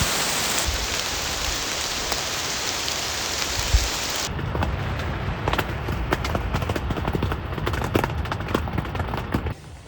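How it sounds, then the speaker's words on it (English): Heavy rain pours down on a wild camping shelter, a loud, dense continuous hiss with scattered sharper drips and patters throughout, and no speech. "It's raining away. The rain has not held up"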